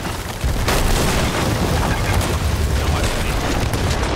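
A cannon blast in a video game battle at a fort, a sudden loud boom followed by a sustained roaring, crackling rumble that fills the rest of the moment.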